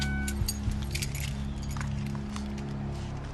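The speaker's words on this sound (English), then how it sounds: "Turn off the car and pass me the keys" Car keys jangling and clinking inside a stopped car during a police traffic stop, a few quick metallic rattles over a low steady engine hum, with no talk.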